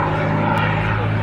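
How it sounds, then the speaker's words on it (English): A Merlin-powered P-51 Mustang fighter flies past at an airshow, a loud continuous propeller-engine roar with a steady low hum, briefly and alone. "Merlin-powered Mustang, sometimes called the plane that won the war."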